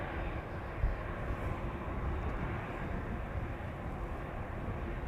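Wide-body airliners taxiing at Amsterdam Schiphol Airport, a steady low jet-engine rumble and whine held at moderate distance, broad and continuous with no talk over it.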